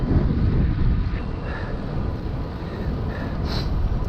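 Strong wind buffets across open, exposed Lincolnshire countryside during a bike ride, a loud low rumbling roar with gusts throughout.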